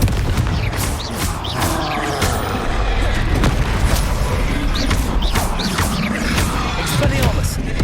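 Confringo spell blasts in the wizarding action game Hogwarts Legacy, a string of loud booming impacts and crackling bursts amid continuous combat noise, with voices calling out over the fighting.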